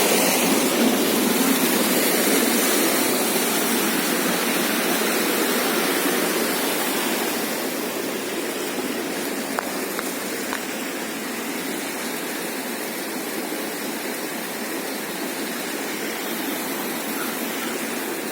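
Water pours steadily into the receiving chamber of an underground sewage treatment plant, a dense continuous rush that is loud and close throughout, easing slightly after the first few seconds, with no talk.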